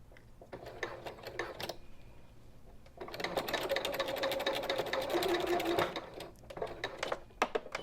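A sewing machine stitches a Mini Swell bag with a boxed bottom in short rapid bursts, then runs in one longer continuous whirring stretch before a few final clicks, close and clear.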